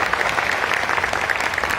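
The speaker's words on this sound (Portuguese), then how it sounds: "Uma salva de palmas para ele." Dense, close applause from an audience at a poetry talk during a book fair in Guarulhos, an even roar of clapping throughout the short span.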